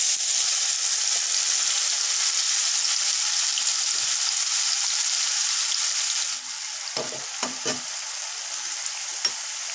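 Spices and garlic-ginger paste frying and being stirred in a pan, a steady close sizzle with a few spoon scrapes near the end.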